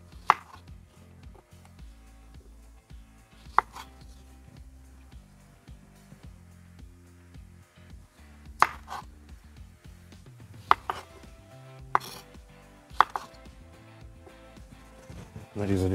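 Knife strikes on a cutting board as potatoes are cut into large rustic wedges, a few sharp, spaced chops standing out over a quiet, mostly music-filled background.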